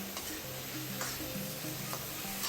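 Prawns sautéing in a hot pan, a steady sizzle with scattered scrapes and clicks of stirring, close and continuous, with no talking.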